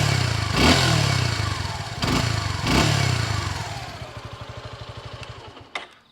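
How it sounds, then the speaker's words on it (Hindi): A Suzuki Gixxer SF 250 motorcycle, 2024 model, runs its engine: a loud exhaust rumble with a few blips early on, then settling into a steady, rapid idle pulse near the mic. "अगर हम बाइक को ऑन करते हैं तो इसका एग्जॉस्ट का साउंड कुछ इस तरीके से होता है।"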